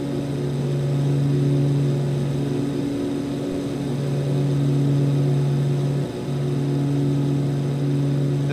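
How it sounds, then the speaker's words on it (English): Twin piston engines of a Cessna 414A Chancellor in Microsoft Flight Simulator 2020 drone at a steady, loud hum with a strong low tone, holding constant throughout apart from a brief dip near the end. "The sounds coming from the engines of this airplane are just magnificent."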